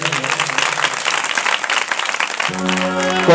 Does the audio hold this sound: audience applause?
yes